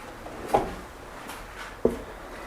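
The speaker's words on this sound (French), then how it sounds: "j'ai reculé mon tiroir vers la gauche en jouant avec les petites roulettes" A kitchen drawer being nudged sideways on its small wheels during cabinet installation, giving two distinct close knocks or clunks spaced about a second apart against a quiet room.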